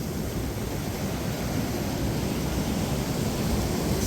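Turbulent river water rushes steadily through old textile mill ruins, a dense, unbroken roar of broadband noise close by with no pauses or voices.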